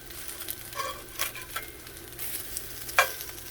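Alligator garfish cakes frying in oil in a pan, a steady close sizzle with occasional pops and crackles, alone without talk.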